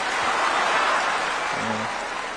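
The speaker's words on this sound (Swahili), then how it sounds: "Pigieni makofi Bwana" Audience applause at a Kenyan government gathering, a broad steady wash of clapping that fills the whole moment and tapers near the end, with a brief voice cutting in underneath.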